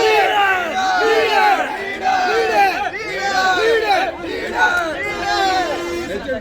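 A crowd of supporters gathered at a 25-day success celebration for a leader, many voices shouting and cheering in overlapping waves, loud and continuous throughout.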